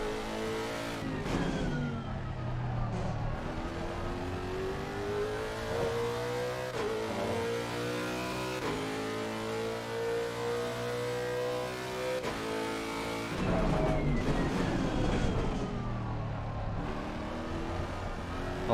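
Bentley GT3 race car engine in Assetto Corsa Competizione, loud and close, revving up steadily through gears with rising pitch sweeps and brief dips at shifts, continuous with no talk.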